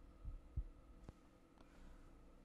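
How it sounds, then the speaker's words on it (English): A slow heartbeat closes a folk song, with two deep, soft thumps followed by fainter beats over a low hum. "There's his heartbeat, closing it out."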